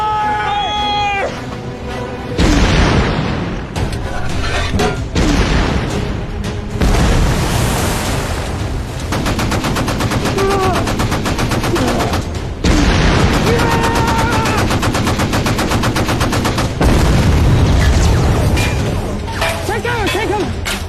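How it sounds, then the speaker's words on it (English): Warship 5-inch naval guns firing in a war film battle, heavy booming blasts and rapid gunfire bursts repeating throughout amid dense orchestral score and sound effects, with shouted voices at times. "5-inch fire! Repeat, 5-inch fire! Fire at will!"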